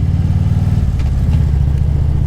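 A Honda Goldwing's six-cylinder engine runs quietly nearby, a smooth low drone with a couple of faint light clicks partway through, steady in level and free of speech.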